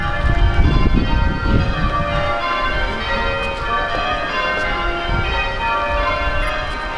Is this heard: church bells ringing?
yes